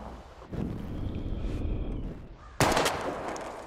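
In the video game Life is Strange, two gunshots fire at bottles: a soft shot early on, then a sharper, louder crack near the end, with a breezy outdoor ambience underneath.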